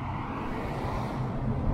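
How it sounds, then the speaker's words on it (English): Busy downtown street traffic in Medicine Hat produces a continuous low rumble of passing cars close by, steady and moderately loud over the short stretch. "Sorry for the noise, guys."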